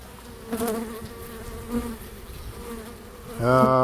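Honeybees from a caught swarm buzzing around an opened backyard hive during a spring inspection, a close, wavering drone that swells as individual bees pass the microphone and grows louder toward the end.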